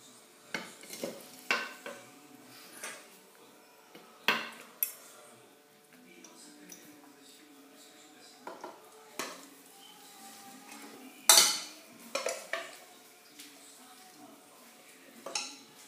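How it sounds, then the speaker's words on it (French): Cooked lamb in a thick prune sauce being arranged into a tagine dish, heard as scattered clinks and scrapes of a utensil against the pot and dish, close by, with quiet pauses between. "Maintenant, je vais disposer dans mon plat à tagine la viande"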